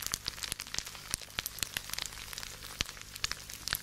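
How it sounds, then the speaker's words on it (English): A quiet sizzling, burning sound effect crackles with dense, irregular pops and hiss, like fat spitting in a pan, steady and faint throughout with no voices. "That's the sound of your body burning in hell."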